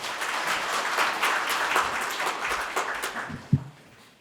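An audience at a Buddhist spring service in the National Assembly applauds as a speaker is welcomed, dense steady clapping that slowly thins toward the end, with one sharp knock near the close.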